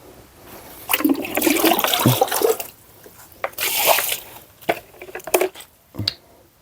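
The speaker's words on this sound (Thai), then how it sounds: "ก็ล้างน้องไดก่อนนะครับ" Water gushes and splashes loudly in bursts while a small animal is being washed, with trickling and dripping between the heavier pours.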